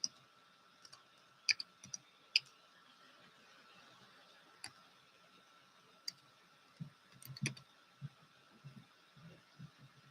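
Several faint, sharp computer mouse clicks, scattered and spaced apart, with soft handling noise in a quiet room.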